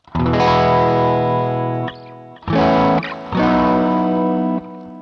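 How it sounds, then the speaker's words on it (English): Electric guitar played through the phaser of a Sonicake Warped Dimension multi-effect pedal, sustained distorted chords ringing in two long bursts with a brief gap, loud and close, no talking. "let's kick on the phaser sound now as well"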